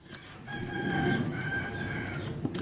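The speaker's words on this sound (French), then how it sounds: "Et t'as le coq qui chante" A rooster crows once nearby, a single drawn-out cock-a-doodle-doo standing alone against faint outdoor background noise.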